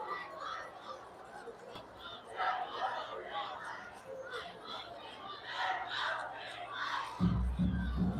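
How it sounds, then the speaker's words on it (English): At a high school football game between Spencer Greenwave and Carver Tigers in Columbus, Georgia, the Spencer student section's crowd swells with shouting and cheering, a rising distant roar under scattered nearby voices and a commentator's talk. "Spencer crowd coming alive."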